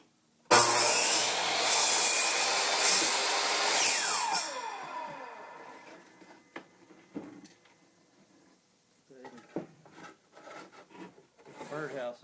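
A compound miter saw slices through a piece of wood for a birdhouse, starting loud and harsh for about four seconds, then winding down, followed by scattered knocks and handling noises.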